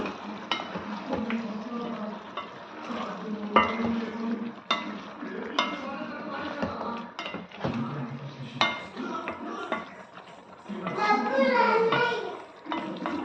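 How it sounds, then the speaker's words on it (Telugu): Chicken for a chicken fry is stirred in a pot, with a ladle scraping and clinking against the metal over a soft continuous sizzle, irregular strokes close by with a brief louder stretch near the end. "ఒకసారి మూత ఓపెన్ చేసి మళ్ళీ చికెన్ ఒకసారి కలుపుకోండి"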